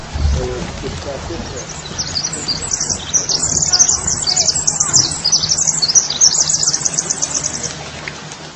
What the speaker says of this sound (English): it sounds deeply similar to the sounds of birds singing